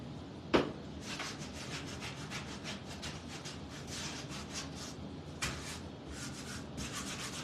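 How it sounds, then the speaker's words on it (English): A wooden tic-tac-toe board piece is sanded by hand, with steady back-and-forth rubbing strokes in a fast, even rhythm, close and fairly quiet, broken by a couple of sharp knocks. "go the same direction when you're sanding"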